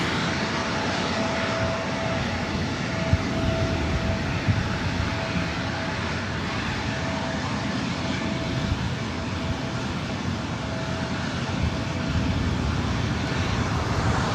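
Jet airliner engines at LAX airport roar steadily and loud throughout, a continuous broad rumble with a faint whining tone held underneath, no voices heard.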